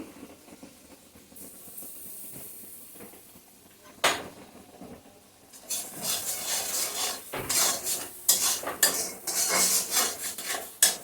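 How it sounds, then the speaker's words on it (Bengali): Mustard spice paste with turmeric and salt for a mango and catla fish curry starts quietly, then hisses and spits loudly in the pan as a utensil scrapes and stirs through it, close up, with no talk. "মশলাটা কষিয়ে নিই"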